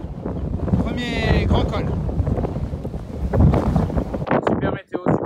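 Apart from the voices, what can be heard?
wind on a mountain pass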